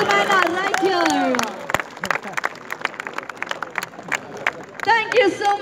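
Audience applause at a talent program launch event, a burst of clapping from a gathered crowd that fades after a second or so, followed by sparse scattered claps with a voice speaking over it.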